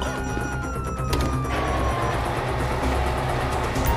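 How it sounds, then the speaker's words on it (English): Police sirens wail in GTA V gameplay, a falling siren tone sweeping over a dense rumble of engines and street noise. "you hear that? Sirens."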